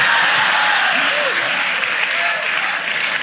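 Loud, close applause from a large crowd, dense continuous clapping with scattered cheers and whoops rising over it, sustained throughout at an event in a hall.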